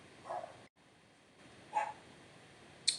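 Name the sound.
dog barking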